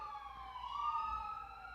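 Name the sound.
fire truck siren passing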